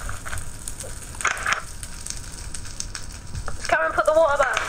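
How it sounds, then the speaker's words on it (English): Guy Fawkes night bonfire burning outdoors, a steady crackle and hiss that runs under nearby voices and chatter throughout. "Show them the bonfire."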